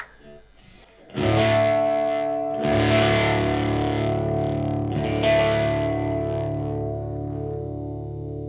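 A P90 Gold Top Les Paul through a Red Rocket Hudson Broadcast clone overdrive pedal, driven chords ringing out thick and warm, struck a few times and left to sustain after a brief quiet start.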